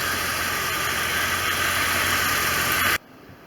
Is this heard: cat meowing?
no